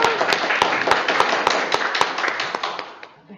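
Applause from an audience at a district council event for young residents, a brisk run of clapping with a few sharp, louder claps standing out before it thins and fades at the end.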